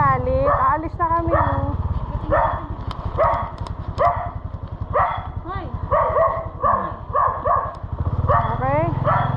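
A dog barks in a series of short, sharp yelps and barks close by, repeated irregularly over a steady low engine drone from a delivery rider's vehicle.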